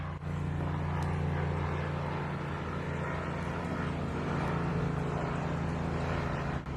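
A green helicopter circling below the listener gives a steady rotor drone in the distance, constant and low, with no voices.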